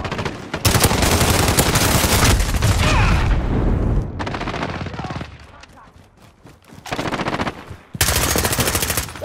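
Heavy machine gun fire rattles in a shoothouse match of a military video game, long loud automatic bursts broken by short pauses, with a quieter stretch in the middle before the shooting resumes close by.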